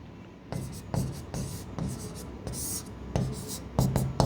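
Pen strokes scratching across paper as words are written by hand in a biology lesson, short separated bursts of close, dry scratching with small gaps between them, no talk heard.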